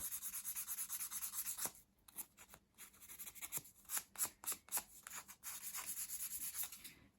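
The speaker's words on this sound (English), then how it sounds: "you can just sand to tidy that up" Sandpaper rubs steadily along a small wooden 1/12th scale dolls house bookcase piece to tidy a bevelled edge, close and quiet, in repeated back-and-forth strokes with brief pauses.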